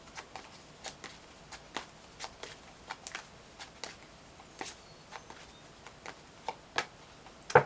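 Tarot cards being shuffled and drawn, giving a steady series of crisp, close card slaps and flicks at irregular intervals with no voices.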